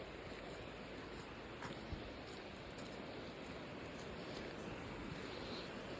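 A river rushes through the landslide-struck Wayanad disaster zone, a steady broadband roar of flowing water with no breaks, heard alone without voices.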